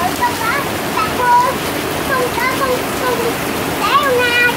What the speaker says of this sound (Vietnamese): Ngoài trời trời mưa quá trời luôn nè các bạn ơi